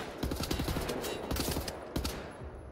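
Rapid gunfire in Wolfenstein: The New Order, a dense run of overlapping shots and bursts through the whole stretch, loud and close with sharp peaks near the middle and end.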